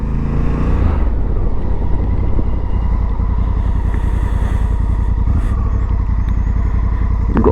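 A 2024 Honda Africa Twin 1100L motorcycle rides along the A303, its engine droning steadily and loudly up close with heavy wind rush, after a brief louder burst at the start.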